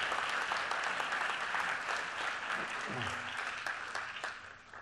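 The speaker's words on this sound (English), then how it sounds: "can I have a big round of applause for the girls from Wild Digital?" Conference keynote audience at a digital event giving steady applause, a dense wash of clapping that fades slightly toward the end, with a brief low murmur partway through.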